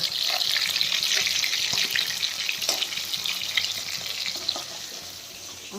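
Raw tomato frying in a pan for a desi rohu fish curry, giving a steady, close, loud sizzle with a few stirring scrapes throughout and no talking.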